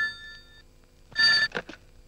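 A telephone bell rings indoors in a film scene. A faint tone at the start is followed by a louder, brief trilling burst that breaks into a few short pulses.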